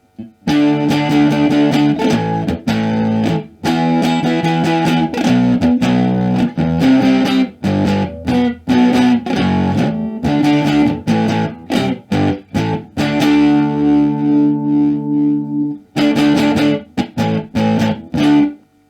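Distorted electric guitar through an LM386 distortion circuit, riffing in loud, choppy bursts with short pauses between phrases, a gritty overdriven tone throughout.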